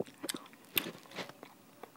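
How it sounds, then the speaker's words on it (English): Gum is chewed close to the mic, a faint run of soft, wet, irregular bites and smacks with no talking. "Sorry, I'm chewing gum right now."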